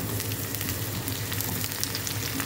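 Mixed vegetables sautéing in a hot pan for ginisang gulay, a steady close sizzle and crackle of frying that runs unbroken without talk.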